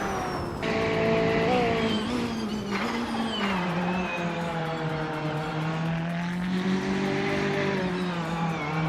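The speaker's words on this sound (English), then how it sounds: "Sakurai TV is driving a 2019 BMW 8 GTE" A 2019 BMW 8 GTE race car in a racing video game, its engine droning loudly with rising and falling pitch as it accelerates, shifts and holds revs through corners, steady and close throughout.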